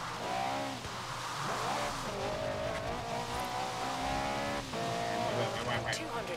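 A race car in a video game drives past with a continuous droning engine that revs and shifts pitch, mixed with brief tire squeals, while voices talk underneath.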